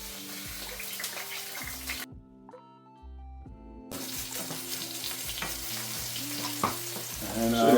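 Breaded chicken coated in breadcrumbs with lemon zest and thyme fries in seasoned oil, a loud close hiss and crackle that stops for about two seconds midway, then returns stronger, with stirring knocks throughout.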